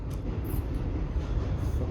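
A train rolls past with a continuous broad rumble and rattle of rail cars, steady and fairly loud, with a few brief high squeals on top.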